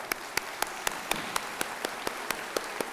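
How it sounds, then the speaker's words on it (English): Audience applause at a university Encaenia ceremony, with a steady wash of many hands and distinct sharp claps on a regular beat standing out close by. It runs continuously with no voices. "Let's have a round of applause."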